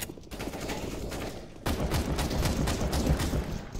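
Rapid bursts of gunfire from the video game CS:GO crackle densely and loudly for a few seconds, with no talk over them.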